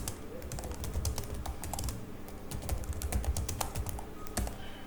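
Typing on a computer keyboard while writing in MS Word: a quick, uneven run of sharp key clicks, close and clear throughout, with no talk.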